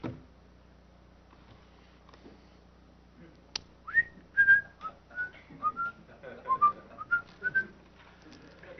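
Someone whistles a wandering, tuneless string of short notes, sliding up and down with small pauses, fairly close and quiet, with no talking.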